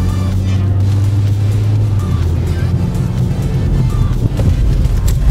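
A car skids and spins a full 360 during rear-wheel skid driving practice, its engine droning steadily and loudly with a low rumble throughout, wind buffeting the microphone.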